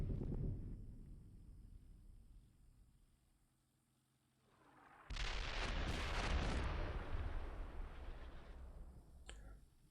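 Incoming fire in the Steel Beasts Pro tank simulator: a low rumbling blast fades almost to quiet, then a heavy explosive roar erupts and holds loud before tailing off, with a brief sharp crack at the end.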